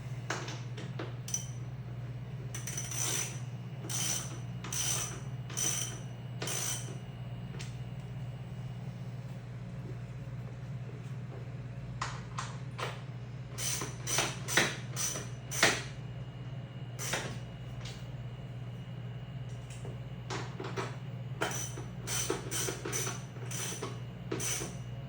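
Bursts of ratchet-like clicking and small metallic ticks from tightening bolts while assembling a Freak Athlete ABX weight bench, coming in short intermittent runs over a steady low hum, close by, with no talking.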